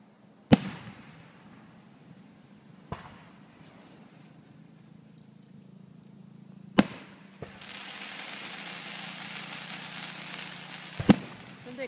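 Fireworks at a 2014 show in Finleyville, Pennsylvania burst in several sharp, loud bangs spaced seconds apart, with a rumbling, crackling wash between them and no talk.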